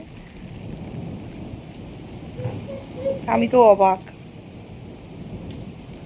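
Heavy night rain falls during a storm in Rajasthan. It makes a steady wash of broadband hiss with low rumbling underneath, and someone briefly speaks over it partway through.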